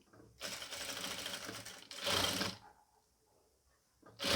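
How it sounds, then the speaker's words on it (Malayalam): A sewing machine stitches pleated fabric for a round-yoke nighty, running in two loud continuous whirring bursts separated by a short pause, with a quieter stretch and another start at the end. "ഞാൻ വേഗം തയ്ച്ച് പോകുകയാണ്"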